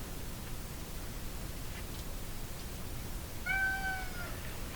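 Domestic cat giving a single clear meow near the end, with a steady hiss of background noise through the whole clip and no talking.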